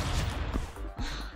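Gunfire in the Stick Fight video game, a short cluster of loud, crunchy shots and impacts over a busy game soundscape.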